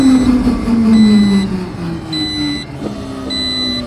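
Tiny electric car with 1000 Nm of torque spinning its wheels, a strong whining tone that falls in pitch, with thin high electronic tones pulsing over it throughout.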